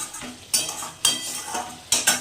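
A spice paste with prawns is stirred in a pan. Several sharp scrapes and clinks of a utensil against the metal come at irregular intervals, with a soft sizzle running underneath.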